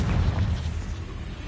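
A Confringo fire-blast spell in Hogwarts Legacy on PS5 erupts as a short, heavy boom with deep rumbling low end, loud at first and fading quickly within a second and a half.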